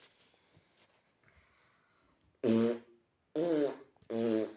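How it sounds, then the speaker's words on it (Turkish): Three loud, buzzy fart noises in a murder-mystery video game, each about a second long with short gaps between them, following a stretch of quiet background game sound. "Gurur niye osuruyorsun ya?"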